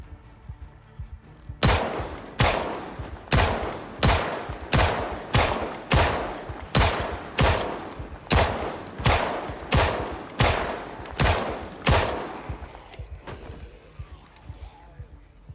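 Pistol gunfire in the video game Project Zomboid: about thirteen sharp shots fired one after another at a steady pace, each with a short decaying tail, loud against a quiet background.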